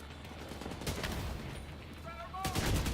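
Gunfire in The Division 2 video game, a short burst of shots rattling under steady game noise, with a louder cluster near the end.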